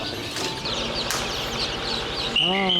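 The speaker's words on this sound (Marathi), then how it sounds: "ओरिजिनल गावरान बदक आहे ती" Domestic ducks quack and flutter close by, with a louder burst of calls at the end, over a background of voices.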